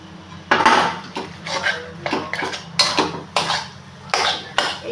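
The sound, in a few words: adding mashed chicken to spices in a bowl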